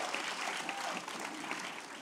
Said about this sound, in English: y'all give Ryan a huge round of applause.